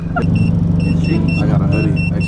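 Idling engine of a cambered stance car, a steady low rumble throughout with a faint rattle, heard from close by inside the car.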